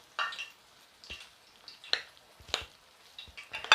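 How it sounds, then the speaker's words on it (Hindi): Potato pakoras dropped one by one into hot oil, each landing as a short wet sizzle and splash, several separate bursts spaced about half a second apart, close and fairly faint, with no talking. "तो ऑयल हमारा गर्म हो गया है, तो अब हम इसमें पकौड़े डालेंगे।"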